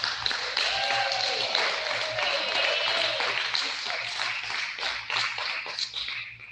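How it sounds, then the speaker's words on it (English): Children and staff applaud a student at an elementary school assembly, sustained even clapping from a large room that thins toward the end, with faint chatter beneath. "Please give Chase a round of applause in Miss Katrin's class"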